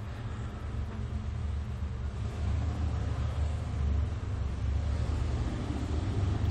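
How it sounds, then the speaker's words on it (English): Road traffic makes a continuous low rumble and hiss that fills the background evenly, fairly quiet and steady, with no voices over it. "Sorry about the road noise."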